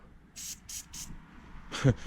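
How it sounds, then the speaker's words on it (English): PB Blaster penetrating oil is sprayed onto a 110cc Tao Tao mini ATV in short hissing bursts, three quick close squirts, a pause, then a louder fourth burst with faint talk underneath. "So just go ahead, give it a spray."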